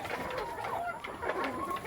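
A gamefowl hen clucks softly in short, repeated calls at close range, with other birds faintly around her and no talk.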